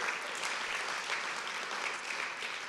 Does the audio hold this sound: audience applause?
yes